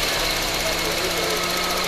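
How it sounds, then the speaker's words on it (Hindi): A car engine runs steadily nearby after a loose connection was fixed, a continuous rough drone with no break, with a voice faintly underneath. "तो चलिए अभी गाड़ी स्टार्ट करते"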